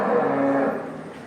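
A dairy cow on a large dairy farm lets out one long, low moo, close and fairly loud, fading out toward the end.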